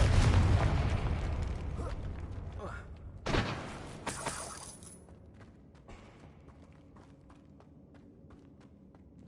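A Confringo spell explosion in Hogwarts Legacy bursts with a couple of sharp, booming blasts after a busy opening, then decays into quieter crackling ambience, with spoken spell incantations around it.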